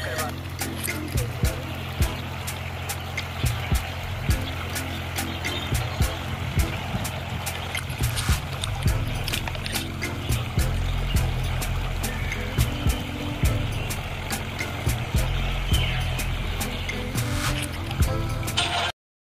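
Irrigation water flows steadily into a field of chilli plants, a continuous gurgling rush close by that runs throughout with a low rumbling undertone.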